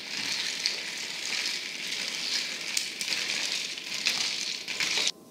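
A Moscow mule cocktail stirred over ice, giving a steady close crackle and fizz of ice shifting in the drink, with a few brighter clinks before an abrupt stop.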